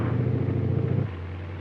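A 1961 LARC 5 army amphibious vehicle driving cross-country over rough terrain, a steady low engine rumble that drops to a quieter idle-like drone about two-thirds through, with no talking.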